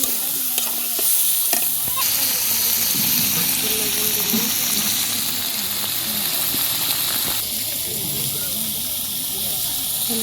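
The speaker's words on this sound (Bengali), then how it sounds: "বেগুন ভেজে নিচ্ছি, এখন এই যে পেঁয়াজ মাছটা দিয়ে দেবো" Eggplant and fish with onion frying and sizzling in a pan in a village kitchen, a steady hiss with stirring scrapes and brief clinks throughout, no voices heard.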